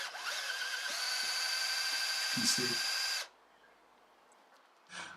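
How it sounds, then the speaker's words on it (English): A cordless drill drives a pump draining fluid from a Volkswagen Golf 4 fuel tank, whirring continuously for about three seconds, then stops, leaving near silence before a brief spoken remark. "using our cordless drill and start draining off whatever was in there"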